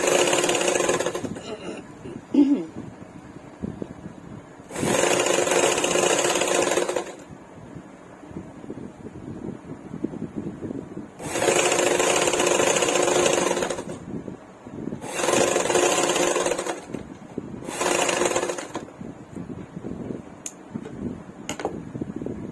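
A sewing machine runs in several loud, steady bursts while stitching a narrow seam along a blouse edge, with quiet pauses and someone speaking between runs.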